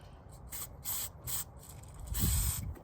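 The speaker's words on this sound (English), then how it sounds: "I squirted it down the mixture screw there and it's spat a load of grubby grit out the fuel hole there" Cleaner sprayed down the mixture screw of a Vespa ET4 125 carburettor gives several short hissing bursts, close and fairly quiet, followed by a longer spray.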